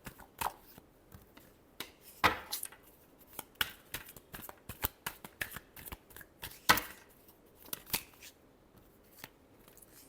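A deck of tarot cards is shuffled by hand in a quiet room, giving soft riffling bursts and crisp snaps in an irregular rhythm, close and faint with no talking.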